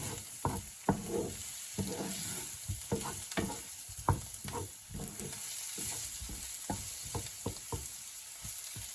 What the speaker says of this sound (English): I want my mushrooms to sizzle and cook into this beautiful smelling marinade of onions and garlic